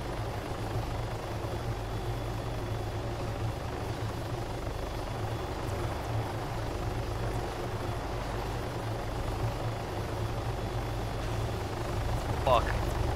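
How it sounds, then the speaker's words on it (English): Helicopter rotor and engine drone in the Altis Life video game, a steady low continuous whir filling the scene throughout, with players talking over it. "That guy took his helicopter."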